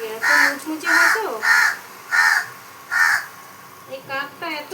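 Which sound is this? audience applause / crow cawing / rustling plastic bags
crow cawing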